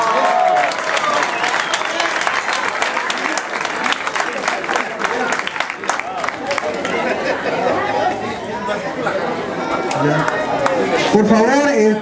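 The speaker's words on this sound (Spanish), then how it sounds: "Démosle un fuerte aplauso." An audience at an award ceremony claps steadily while loud crowd chatter and voices continue throughout.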